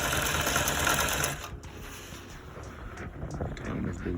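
A sewing machine hums close by while stitching a welt pocket, running steadily, then easing to a softer whir with light clicks before speeding up again near the end.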